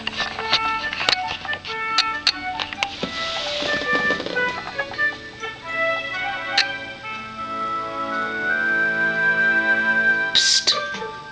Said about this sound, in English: I'm sorry if you hear the movie in the background